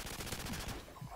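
Rapid gunfire in Call of Duty 4 multiplayer Domination, a quick burst of automatic shots heard faintly and briefly with no talk over it.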